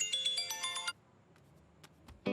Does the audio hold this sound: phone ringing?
yes